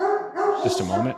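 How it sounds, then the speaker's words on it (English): A large German shepherd barks close by in a home, with a couple of sharp barks and yips overlapping a man's speech. "Excuse the dog."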